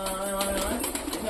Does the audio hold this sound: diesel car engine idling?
no